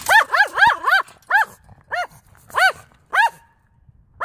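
Sharp dog barks in quick bursts, a rapid cluster of four followed by spaced single and double barks, loud and close with no talking.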